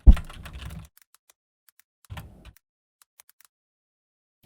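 Typing on a computer keyboard, two short bursts of rapid clicking keystrokes separated by silence, close and clear, followed by a few isolated taps.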